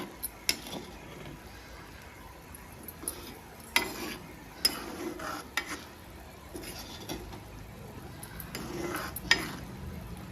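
Ivy gourd curry with turmeric and tamarind is stirred in a pan, with soft scattered scrapes and clicks of a utensil over a faint simmering hiss.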